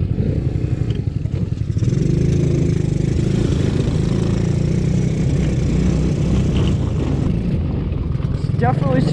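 Amazon mini Jeep's small engine idling close by with a loud, rough, uneven chug that sputters throughout, and a person talking over it.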